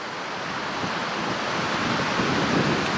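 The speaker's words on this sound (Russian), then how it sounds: "Очень сильный ветер штормовой" Steady roaring rush of strong wind, loud and unbroken, with a faint surf-like wash underneath.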